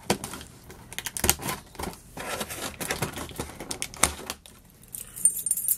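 Keys saw and scrape through tape on the cardboard packaging of a Doctor Who action figure. Close, irregular scratching and crinkling bursts come with brief pauses between strokes.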